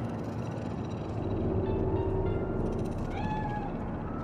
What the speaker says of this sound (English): It's a cat like any other.